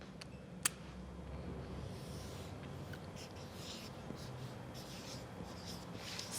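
A marker or pen writes a title across a paper chart, a soft continuous scratching and rubbing close by, steady and faint for several seconds, with one brief sharp tap near the start.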